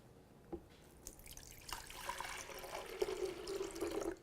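A little water is poured in a kitchen for a garlic remedy, a soft trickle that builds into a steady, quiet stream after a few faint knocks.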